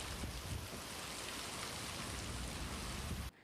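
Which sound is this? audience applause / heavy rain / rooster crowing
heavy rain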